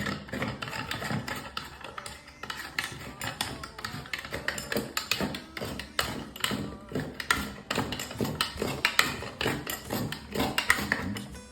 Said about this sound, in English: we're going to screw this bathtub spout back onto the brass piece